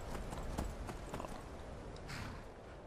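Horse hooves in Skyrim clopping at a walking pace, several uneven thuds up close, followed by a softer splashing shuffle as the horse enters icy water.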